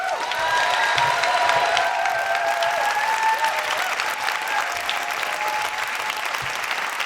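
A poetry slam crowd at the Roundhouse applauds warmly, a dense, loud wash of clapping filling the hall, with a few faint whoops and sustained tones riding over it before it slowly thins.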